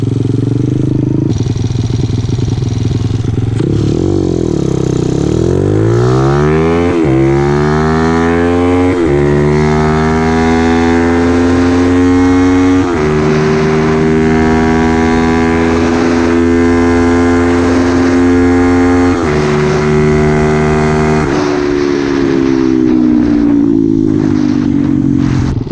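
Honda CT70 mini motorcycle accelerating hard from a standstill, its small engine buzzing loud and close as the revs climb and drop with each gear change, a raspy rising drone held through several shifts.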